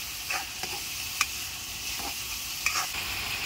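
Soybean kofta masala frying on a low flame, a steady hissing sizzle with a few light clicks of a spoon against the pan at scattered moments.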